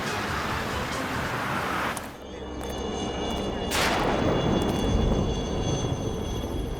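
A loud helicopter roars overhead, its rotor engine rumble swelling and receding with rushing air noise, dipping briefly before building again.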